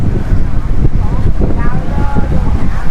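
Strong wind buffeting the microphone outdoors in Da Nang, a loud, rumbling, gusty roar that persists throughout with faint background sounds beneath.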